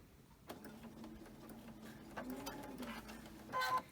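A sewing machine chain-stitches quilt pieces in a quiet room, a faint low hum with soft mechanical ticks that rises briefly near the end, and no voices.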